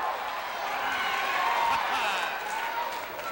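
A capacity wrestling arena crowd roars behind a professional wrestler during a 1985 televised bout, a steady wash of cheering and applause beneath a commentator's voice.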